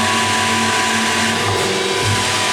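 A Greenerd HCA-40-30R hydraulic C-frame press set to 10 tons hums steadily with a loud, constant motor and pump drone, with a slight shift in pitch near the end of the stroke.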